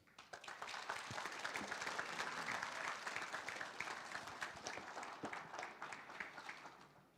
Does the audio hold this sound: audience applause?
yes